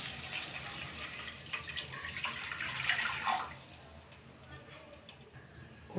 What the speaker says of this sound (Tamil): ரெண்டரை கப்பு தண்ணி சேர்க்குறேன்.